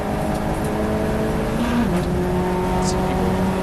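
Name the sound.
Fiesta ST240 race car racing at Silverstone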